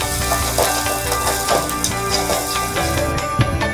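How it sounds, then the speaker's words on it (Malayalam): Ginger, garlic, onion and green chilli sauté in a pan with a steady, close sizzle and occasional stirring scrapes over faint sustained tones in the background. "ഒന്ന് വഴറ്റി കൊടുക്കാം."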